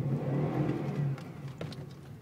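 A car revving and accelerating on snow, a mid-pitched engine drone that rises with a bunch of throttle, close and fairly loud, then eases back as a couple of faint knocks follow.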